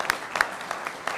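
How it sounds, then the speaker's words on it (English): A small audience at a community open forum gives a brief, sparse round of applause. A few individual hand claps stand out over a soft, distant spatter of clapping. "let's give Kat a big round of applause"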